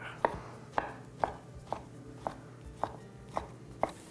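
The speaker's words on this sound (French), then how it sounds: "On va couper la viande." A knife chopping already-cooked meat into small strips on a board, eight crisp, evenly spaced cuts about half a second apart, close and clear, with no voices.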